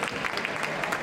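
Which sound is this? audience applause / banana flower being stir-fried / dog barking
audience applause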